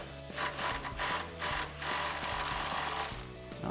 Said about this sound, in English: Now I'm going to use my 17 socket and see if it comes off.